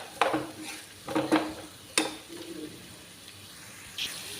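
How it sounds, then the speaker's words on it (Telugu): Cut onions for a potato and drumstick-leaf curry are stirred in a pan, giving a few distinct scraping and clinking strokes of a utensil against metal, spaced apart over a faint background. "కట్ చేసుకున్న ఉల్లిగడ్డలు కూడా వేసేసుకోవాలి. మంచిగా అన్నీ కలిసిలా వేయించుకోవాలండి."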